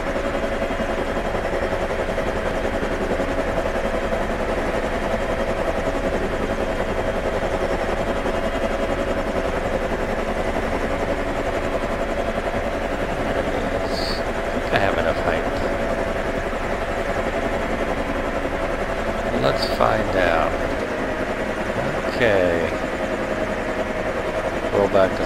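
Helicopter in the Prepar3D flight simulator, a steady, loud droning blend of rotor and engine hum that persists throughout, with a voice speaking intermittently over it.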